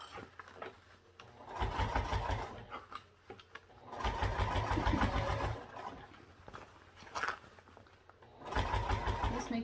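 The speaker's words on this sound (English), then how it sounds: "I'm just sewing around here at a 1/4 inch seam allowance." Domestic sewing machine stitching a quarter-inch seam around a curve on a LindSling, running in several steady rhythmic bursts with short stops between them, close and moderately loud.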